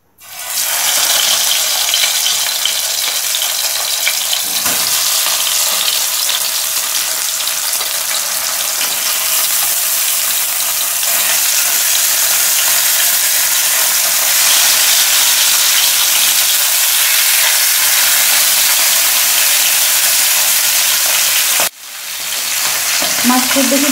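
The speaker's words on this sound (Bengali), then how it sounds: "এবার নুন হলুদ মেখে নেওয়া মাছগুলো ভেজে নেব।" Turmeric-and-salt-coated tilapia fries in hot mustard oil in a pan, producing a loud, dense, continuous sizzle that holds steady throughout before a brief break and renewed crackling near the end.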